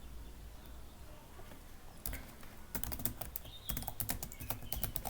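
Fingers tap steadily on a computer keyboard while a Python file is written, a quiet hum at first, then a close run of quick, uneven keystrokes.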